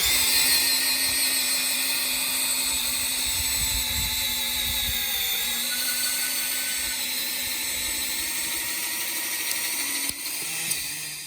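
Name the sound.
auger bit drilling through metal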